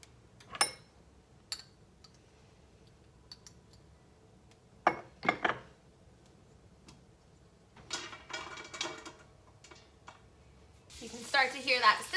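Garlic browning in butter at the bottom of a soup pot on medium-low heat gives a faint, intermittent sizzle with scattered clinks and stirring noises, quiet between brief bursts.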